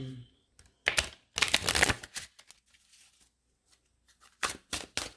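Tarot cards are shuffled by hand in quick riffling bursts and short snaps, close and crisp, broken by pauses, with a voice speaking between the shuffles.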